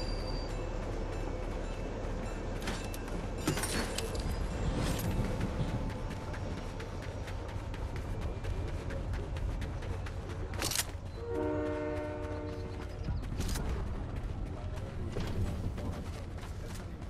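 A train in the Fortnite video game rolls along with a continuous rumbling clatter, broken by a few sharp clanks and a long sustained horn blast near the middle, heard fairly close.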